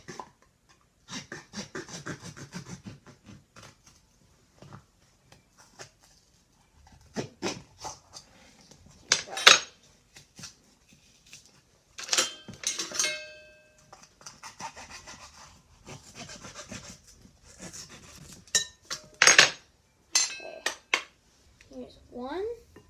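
A tablespoon scrapes and taps while measuring poppy seeds, with intermittent clinks of utensils against dishes and a few sharper metallic rattles, close and fairly quiet, in sporadic bursts across a home kitchen.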